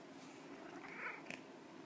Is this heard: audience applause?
no